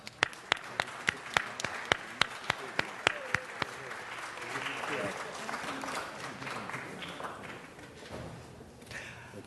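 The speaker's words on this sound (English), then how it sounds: "Let's give them one more round of applause." Applause from an audience at a city council meeting, opening with sharp distinct claps that thicken into steady crowd clapping, with murmuring voices underneath as it fades toward the end.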